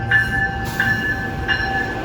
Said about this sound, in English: here goes the A line departing to DIA. And it's a 4-car train as always